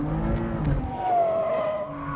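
A car takes a ride at the SEMA Show, its engine revving loudly up close with rising and falling tones and a brief tire squeal, with no talk over it.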